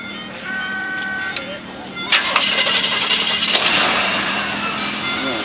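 A 1971 Pontiac Parisienne coupe's 350 V8 engine cranks and catches, then settles into a rough, steady idle up close, with a voice speaking briefly at the start.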